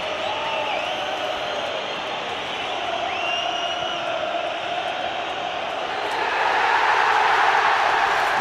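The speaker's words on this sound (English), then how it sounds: "The biggest cheer that you will hear on Wearside all season." A large football crowd at Sunderland's home ground roars and cheers, the noise swelling louder near the end.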